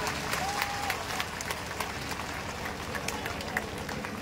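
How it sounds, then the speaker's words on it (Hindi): Large outdoor crowd at a political rally in Jaunpur clapping to welcome new party members, a broad dense wash of applause with scattered shouts, moderately distant. "हाथ उठाइए, जोरदार ताली बजा करके स्वागत करिए आप लोग।"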